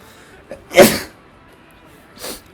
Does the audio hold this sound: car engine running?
no